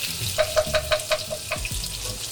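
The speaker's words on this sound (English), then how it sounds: "We'll just let the garlic brown a little bit" Garlic browning in a pan, a steady frying hiss with a quick run of evenly spaced clicks and a low rumble beneath, close and fairly loud.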